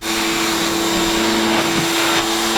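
The electric motor of a treadmill rigged as a car dyno runs loud and close with a steady whining drone, while the motor is giving off smoke.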